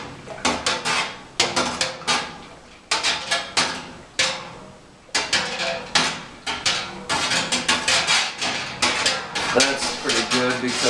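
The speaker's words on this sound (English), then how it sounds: "Let's mix this honey in here." A spoon stirs honey into a metal pot of homebrew honey porter beer, giving a busy run of loud, close, rhythmic clanks and scrapes against the pot walls.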